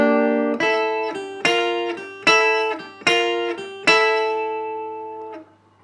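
A rockabilly electric guitar lick using a Bigsby vibrato arm, five bright twangy chord strikes in a steady rhythm, each ringing with a slight wavering pitch before a final fading note, loud and unaccompanied.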